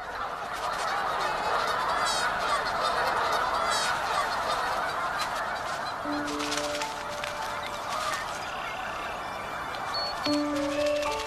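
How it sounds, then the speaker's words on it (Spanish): Migrating birds rest at a prairie stopover on their way north to the Arctic, with Wilson's phalaropes among them: a dense, continuous chorus of honking and chattering calls, close and loud, with sharper whistled notes standing out toward the end. "Muchas aves se dirigen hacia el norte para aparearse en el Ártico. Descansan aquí para recuperar fuerzas."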